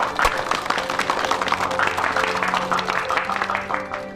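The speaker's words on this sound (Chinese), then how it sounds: "掌声欢迎。" An indoor audience at a formal meeting breaks into applause, a dense patter of many hands clapping steadily for several seconds.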